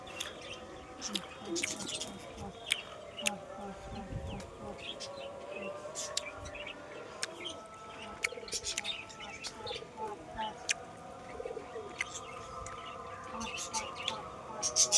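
Pigeons, a hife line flock perched and taking off around a rooftop as a storm begins, coo and flutter amid outdoor chirps from other birds, with steady wind-like background noise and scattered wingbeats throughout.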